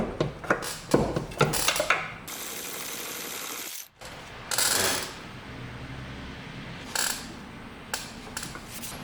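Ratchet clicks loosen hard-to-reach front bolts on a BMW E46 wagon during suspension work, coming in short bursts of rapid pawl clicking separated by pauses and clanks of metal.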